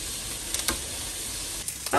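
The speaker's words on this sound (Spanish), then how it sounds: "vamos a poner chorizo, yo aquí puse medio kilo y lo vamos a dejar que se empiece a freír" About half a kilo of chorizo fries in its own rendered fat, giving a soft, steady sizzle and hiss with a few small pops and stirring clicks, close and without talking.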